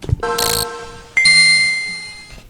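Two bright bell-like notification chimes ring out one after another, clean and close, with a short gap between them and a lingering ringing tail on the second.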